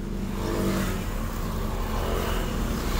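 A car engine revs steadily at mid pitch with the clutch half engaged for an uphill start on a road, a continuous throaty drone that holds level throughout at close range.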